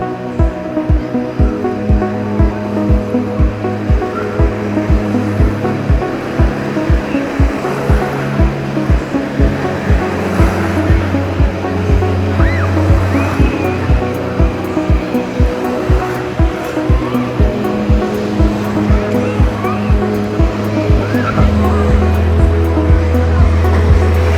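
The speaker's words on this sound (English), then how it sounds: "we're at the wave pool" Wave pool at the CocoCay water park in the Bahamas, water churning and surging under a loud, droning machine hum with tonal whine, rhythmic pulses running steadily throughout, fairly close.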